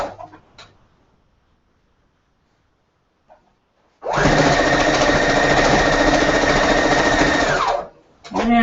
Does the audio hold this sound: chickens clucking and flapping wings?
no